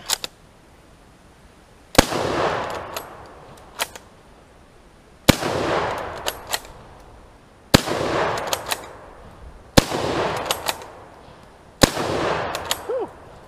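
Repeated shots from a Turkish Mauser bolt-action rifle, six sharp loud reports spaced about two seconds apart, each followed by a ringing echo and the clack of the bolt being cycled.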